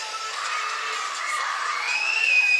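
A group of children screaming together, a steady high-pitched shrill wash of voices that holds throughout and rises slightly toward the end, loud and close with no other sound.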